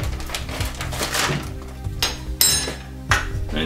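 A metal spoon clinks and scrapes against a pot while stirring farina semolina hot cereal, close and clattery, with a few sharper knocks toward the end.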